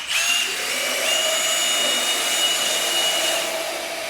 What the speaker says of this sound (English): Okay, go ahead and drill them.